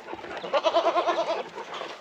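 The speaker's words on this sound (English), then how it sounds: "it looks like there's two little baby goats out here" A goat on a farm gives one close, quavering bleat with a rapid trembling pulse, sounding like a young kid, against faint outdoor background.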